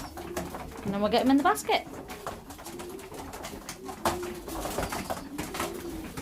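Young racing pigeons of the 2021 season being readied for basket training, giving soft, close coos and rustling while a person talks over them.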